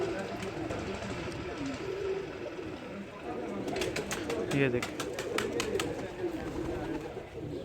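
Pigeons flock around a rooftop loft, their cooing and flapping mixed into steady outdoor noise while someone talks over them in Hindi.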